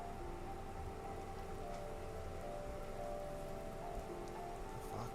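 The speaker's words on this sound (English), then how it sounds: "The rain cascaded onto the Jade Valley where the entrance to the tree was." Rain pours down over a jade-green valley in the video game The First Tree, a dense, steady patter of drops on surfaces with no other sounds.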